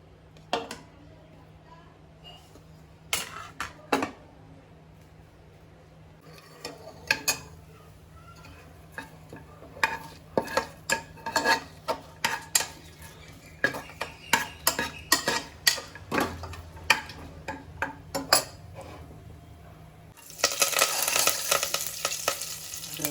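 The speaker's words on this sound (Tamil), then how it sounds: "இப்போ பட்டை சோம்பு ஏலக்காய் பிரிஞ்சி இலை எல்லாம் போட்டிருக்கேன் அதோடைய முந்திரி பருப்பையும் போட்டுடலாம்" Cinnamon, fennel, cardamom, bay leaf and cashews fry in oil in a pan, with a steady soft sizzle and scattered sharp clinks of a metal spoon stirring. The frying swells louder near the end.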